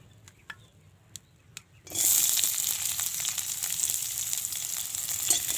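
Meat hits a hot pan and bursts into loud, steady sizzling frying that continues without a break, after a few light clicks and knocks in a quiet kitchen.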